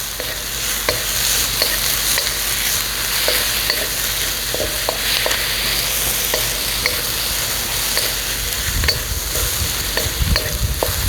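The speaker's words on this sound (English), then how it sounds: "Always stir fry it. Always stir it." Baby bok choy stir-fried with ginger and garlic in a hot pan gives a steady loud sizzle, with repeated scraping and clacking strokes from the stirring running throughout, close by and with no voices.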